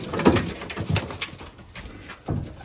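A racing pigeon coos inside a loft in New Zealand, giving a few soft, close, throaty coos with a brief pause before a final one, over faint background rustle.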